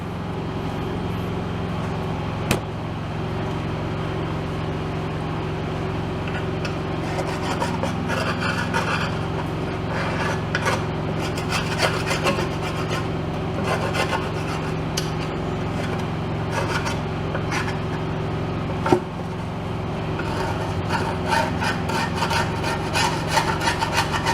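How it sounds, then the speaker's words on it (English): Scraping accumulated oil and dirt off a RotoHoe tiller, a steady rough rasping rub that runs throughout, close and fairly loud, with a couple of sharp knocks and no talking. "Gonna scrape off the worst of the accumulated"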